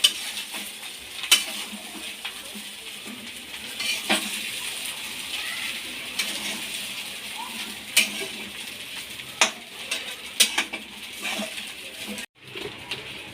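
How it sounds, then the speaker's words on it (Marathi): A spoon scrapes and stirs through egg rice and gravy in a hot pan on a home stove, with soft sizzling underneath and occasional sharper knocks against the pan, close and moderately loud. "तर आता हे सगळं चांगलं मिक्स करून घ्यायचं आहे."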